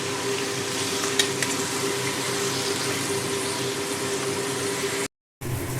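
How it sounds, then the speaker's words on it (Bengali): Fish heads fry in hot oil in a pan, giving a steady close sizzle with occasional light stirring and no talk, and the sound cuts out briefly near the end. "বাকি যে মাছের মাথা তেল ছিল সেটাও আমি ভালো করে ভেজে নেব।"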